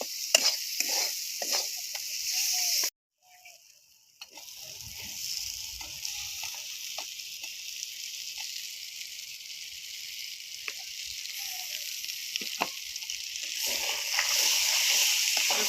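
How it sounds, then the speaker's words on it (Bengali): Fried potatoes tossed into a cooked spice paste for a green-tomato and bata fish curry, a steady close sizzle with scraping stirs and spatula clicks running throughout, broken by a brief near-silent gap early on. "এবার ভেজে রাখা আলুটা দিয়ে দেবো"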